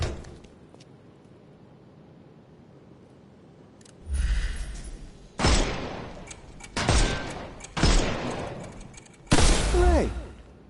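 Bursts of video-game gunfire in Sherlock Holmes Chapter 1 as enemies' armour is shot off, starting with a faint low rumble and then four or five loud, close, crackling volleys separated by short pauses.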